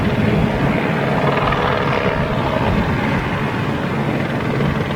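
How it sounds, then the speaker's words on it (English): A helicopter buzzes around Toulouse airfield during an Airbus anniversary event, its loud, continuous rotor and engine drone filling the air steadily with no talk. "I do love the sound of a helicopter buzzing"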